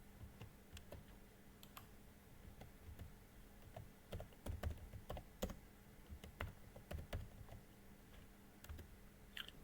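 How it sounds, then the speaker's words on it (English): Typing on a computer keyboard while searching in a web browser on a Windows PC: a steady run of light, close key clicks with a few louder taps, heard alone with no voices. "you are just going to type what? Download Chrome."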